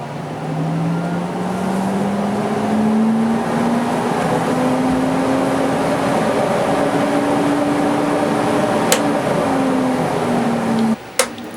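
A homemade dust collector motor hums continuously and loudly, its pitch rising slightly as it spins up and then holding steady, ending with a sharp click.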